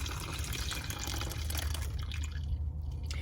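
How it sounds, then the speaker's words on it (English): Water drains from a flip-top container into a cheap sandwich bag inside a car, a steady trickling, gurgling pour that carries on close by throughout. "what I do is I drain the water in here"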